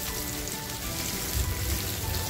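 Chopped onion frying in a pan for an Afghani egg masala, a steady close hiss and crackle of sizzling oil throughout, growing a little fuller toward the end.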